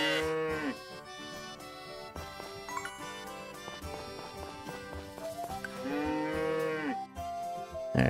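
Cows mooing on a farm in Story of Seasons: Friends of Mineral Town, with several drawn-out moos over light game music and faint jingling, the loudest calls near the start and again toward the end.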